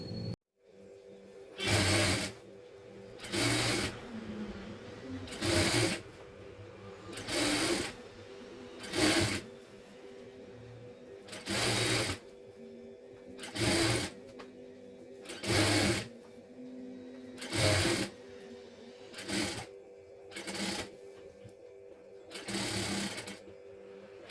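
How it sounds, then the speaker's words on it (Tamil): A sewing machine stitches the folded edge of a saree in about a dozen short, even bursts of rapid mechanical whirring. Each burst is separated by a brief quiet pause, and the sound is close and clear. "ஓகே, இப்போ மடித்து தைச்சாச்சு"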